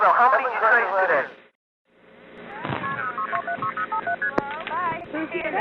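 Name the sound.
telephone touch-tone dialing tones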